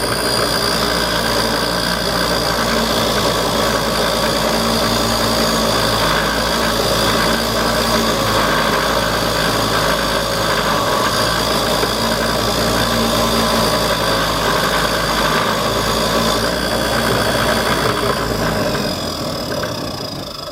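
Central Machinery bench grinder spinning a wire brush against threads, a steady loud motor whine with dense scratchy brushing noise running continuously and close throughout, tapering slightly at the end.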